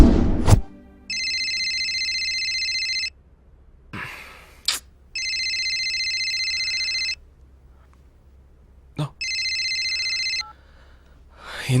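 A telephone rings in three loud, evenly spaced electronic bursts with silent gaps between them, and a sharp breath or gasp is heard in between.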